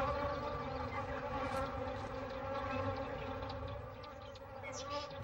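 A swarm of bees buzzing around lions in the African wild, a dense continuous drone with individual insects whining past close by, steady and fairly loud.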